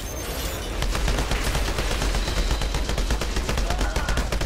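Rapid bursts of gunfire crackle continuously, dense and loud, like automatic weapons in the game Outriders, with no talking over them.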